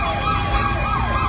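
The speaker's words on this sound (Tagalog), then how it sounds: "dami ng fire truck" Fire truck sirens wailing at a fire in Santa Cruz, Manila, near Tayuman, a brief rising and falling tone over steady street noise.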